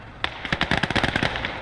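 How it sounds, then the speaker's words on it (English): Machine guns rattle in rapid, uneven bursts during a World War II battle in the Gates of Hell game, with dense overlapping shots loud and close, forming a near-continuous volley. "And there we go, MGs and stuff firing."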